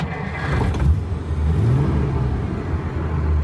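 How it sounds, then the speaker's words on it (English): A classic car engine, started after sitting unused too long, runs steadily close by, its low rumble rising briefly as it revs, with no voices. "Engine sounds good."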